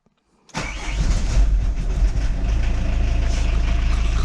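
A Peugeot 806 diesel engine cranks and catches after glow-plug preheating, then settles into a loud, steady, close idle with a rough rhythmic clatter and no voices.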